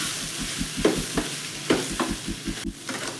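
Mushroom pepper fry with chopped coriander being stirred and fried in a pan: a low crackling sizzle broken by several spatula scrapes and knocks, close-up with no talking.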